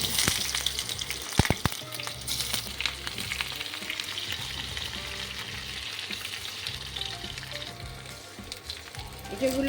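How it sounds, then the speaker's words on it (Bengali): Pieces of raw jackfruit fry in hot oil for a Bengali-style curry, giving a steady close sizzle with occasional stirring clatter and no one speaking. "এবার এঁচোড়গুলো ভেজে নিচ্ছি।"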